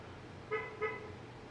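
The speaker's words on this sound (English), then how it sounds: "Somebody's honking their horn." A car horn sounds two short, clear toots in quick succession, moderately distant, over a quiet indoor background.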